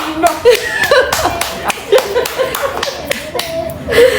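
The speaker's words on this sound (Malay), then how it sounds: "kita bagi tepukan kepada Cik Semak" A few people clapping for Cik Semak during a casual Malay live stream, uneven close-up claps and slaps mixed with laughter and chatter.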